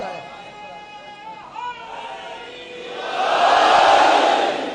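A majlis audience raises a loud collective religious slogan, the crowd's voices swelling together into a sustained roar that builds and peaks before easing, following a stretch of quieter murmuring voices.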